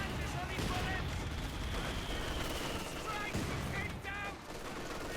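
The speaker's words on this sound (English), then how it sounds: "A ton of mortar fire and machine gun fire there." Mortar and machine gun fire in the Company of Heroes 2 video game, a dense mix of bursts and booms with a commentator talking over the battle.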